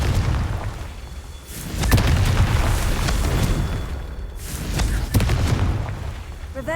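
Repeated Confringo fire-spell blasts in the Hogwarts Legacy video game, heavy booming bursts near 2 and 5 seconds over a constant rumbling game soundscape, loud and close.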